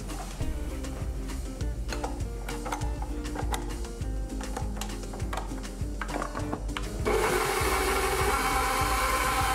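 A stand mixer with a dough hook kneads bread dough for milk and honey bread, its motor humming steadily under a rhythmic knocking that grows louder and fuller near the end.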